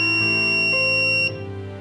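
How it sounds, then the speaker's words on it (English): A loud electronic buzzer in a push-button latch circuit sounding a steady, harsh continuous tone up close, holding for a couple of seconds before dipping slightly at the end. "buzzer is buzzing."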